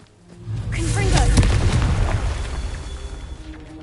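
A Confringo fire spell blast in Hogwarts Legacy swells into a loud, deep rumbling boom that peaks and slowly fades, with crackling fiery texture.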